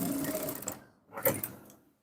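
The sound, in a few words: sewing machine stitching trouser fabric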